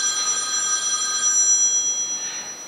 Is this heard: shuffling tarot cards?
no